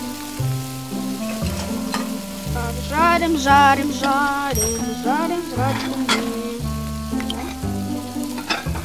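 Food sizzles steadily in a pan in a restaurant setting, the frying hiss running under tonal music and electronic chirps, with a voice briefly speaking.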